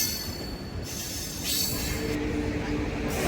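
A running train near Rajkot and Surendranagar, Gujarat rumbles steadily along the tracks, with a high metallic squeal of wheels rising and fading over the continuous roar.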